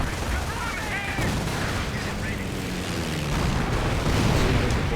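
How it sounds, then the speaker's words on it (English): A bombing run and gunfire in the Company of Heroes strategy game, dense crackling bursts of weapons fire and rumbling blasts layered continuously, growing slightly louder toward the end, with a commentator talking over the battle. "Now of course, bombing run, yes indeed."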